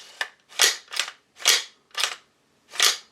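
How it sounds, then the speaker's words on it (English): The action of a V Seven Enlightened AR rifle is racked on a tabletop, producing six sharp, close metallic clacks in an uneven rhythm across about three seconds, with short silences between them. "Hear how quiet that spring is in the action."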